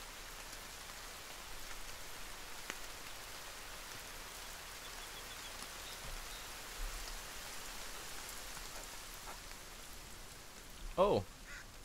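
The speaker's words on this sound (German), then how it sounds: "Na, machen wir mal schweren Regen hier rein" Heavy rain in the video game The Forest, a steady soft hiss of falling rain spread evenly throughout, with a brief louder bump near the end.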